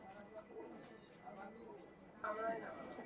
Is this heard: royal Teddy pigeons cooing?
yes